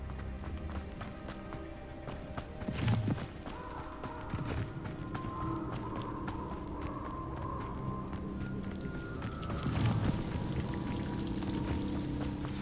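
Waterfall in a fantasy open-world game, a steady rushing roar of falling water throughout, with a low tonal hum, occasional heavier splashes and faint footstep-like taps mixed in.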